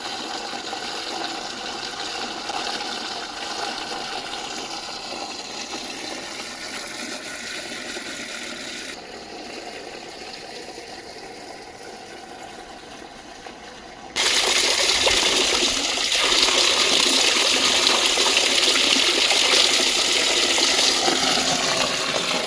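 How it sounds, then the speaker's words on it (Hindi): Mountain spring water pours from a stream outlet near Munsyari in Uttarakhand in a continuous close rushing gush, which jumps noticeably louder and fuller partway through. "पेड़ों की जड़ से आने वाला मीठा पानी।"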